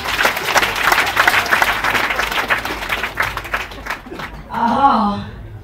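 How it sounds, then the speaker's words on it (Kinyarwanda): Audience applause at a religious gathering, dense steady clapping filling most of the stretch before tapering off, followed by a voice rising over the dying claps near the end. "dukomere Imana haca amashyi"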